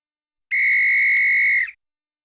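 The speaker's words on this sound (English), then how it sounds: "And there's our whistle," A single long, steady referee's whistle blast signals the end of regulation time at a sports event, loud and alone for about a second before cutting off.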